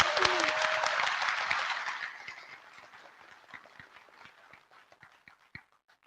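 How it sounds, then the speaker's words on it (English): Audience applause at the IETF 99 plenary session, loud and dense at first, then thinning into scattered claps that fade over several seconds. "If you want to give a quick clap for her."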